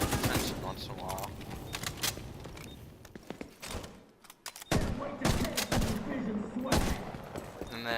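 Bursts of gunfire ring out in The Division 2 as shots hit destroyable carts, several sharp volleys and rapid clusters separated by short pauses, with someone talking between them.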